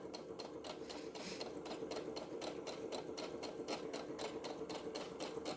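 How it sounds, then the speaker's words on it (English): A sewing machine stitches the seam of a tote bag and backstitches automatically, a fast, even mechanical whirr of needle strokes that runs steadily and close up, with no voice over it. "So it back stitches automatically for me."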